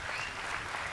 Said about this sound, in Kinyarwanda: Knowless mukomera amashyi cyane